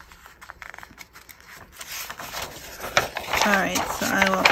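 Scissors cut out a paper piece for a craft project, a run of short snipping and rustling strokes growing louder and denser toward the end, with faint room noise between cuts.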